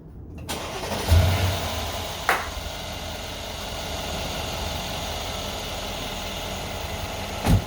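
A 2013 Mercedes SL550 with a 4.7-litre twin-turbo V8 cranks and fires up, then settles into a steady, even idle with a couple of brief blips, recorded close with no talk.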